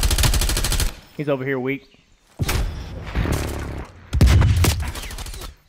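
Rapid automatic gunfire from a shooter video game comes in loud bursts broken by short pauses. Voices talk between and over the shots.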